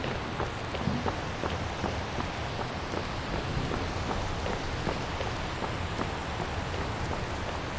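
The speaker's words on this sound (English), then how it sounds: "Well, get out of the rain at least." Steady rain pours in a video game setting, a dense even hiss with scattered drop patters throughout, continuous and fairly loud with no voices.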